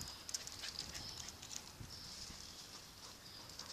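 Quick rhythmic patter of dog paws running, galloping like a racehorse, faint and fairly distant over a steady outdoor background hiss.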